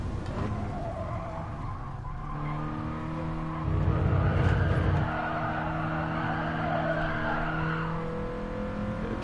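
Race car drifting with tires skidding in a racing video game, a sustained engine whine with long squealing tire slides, loud and continuous, swelling briefly midway.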